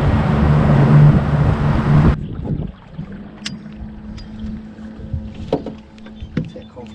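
A small boat motor on a lake drones loudly for two seconds and then cuts out, leaving light water lapping and scattered knocks and creaks close by.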